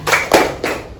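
Three sharp hand claps in a steady rhythm, close and fairly loud, with no talking.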